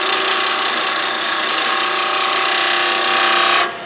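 A wood lathe spins as a turning tool makes a slightly heavier cut near the tapered end of a practice piece, a loud continuous scraping whir that holds steady and then drops off abruptly near the end.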